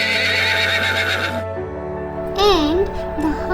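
A horse's neigh rings out, imitated in a read-aloud animal story for kids, a rising and falling whinny following a stretch of steady tones, sounding close and clear.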